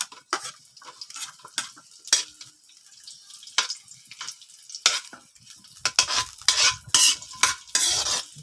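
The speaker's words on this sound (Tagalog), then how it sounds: "Atin muna isangkot sa itong sibuyas." Onion being stirred and sautéed in a pan over a wood-fired stove in a rural kitchen, with intermittent scraping stir strokes and a soft sizzle building louder toward the end, no voices.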